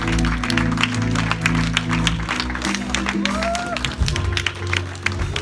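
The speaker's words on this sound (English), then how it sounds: "Another round of applause." Audience applause fills a crowded hall at a Detroit speaking event, steady clapping sustained for several seconds with a voice speaking over it near the end.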